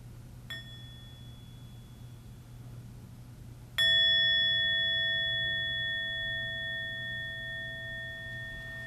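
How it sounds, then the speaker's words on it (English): A bell is touched lightly once, then struck fully, its clear ringing tone sustaining and slowly fading in a quiet room. "You allow the sound of bell to penetrate into your body"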